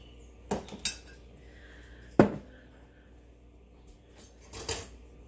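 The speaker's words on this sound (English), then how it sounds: "Now I'm going to mix my other ingredients together." A utensil clinks and scrapes against a bowl as lasagna fillings are mixed, a few sparse, separate taps and knocks, with the sharpest one in the middle, in a quiet kitchen.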